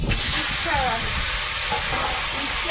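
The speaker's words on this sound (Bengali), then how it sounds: "কড়াইতে একটু তেল দিয়েছি, গোটা জিরে।" Whole cumin sizzles in hot oil in a wok (kadai) for a Bengali potato curry, a steady close crackling hiss that runs unbroken throughout.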